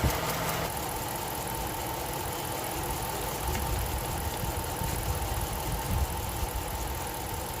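A 2006 Dodge Magnum's engine idles steadily up close, a constant low rumble with a faint ticking texture that holds at an even level throughout, with no talking.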